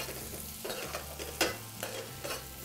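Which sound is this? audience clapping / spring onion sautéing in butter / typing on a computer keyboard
spring onion sautéing in butter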